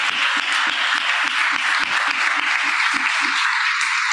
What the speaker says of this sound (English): So I just want to give one last round of applause to our panelists.